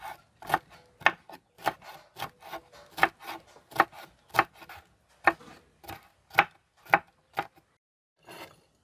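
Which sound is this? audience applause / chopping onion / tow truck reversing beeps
chopping onion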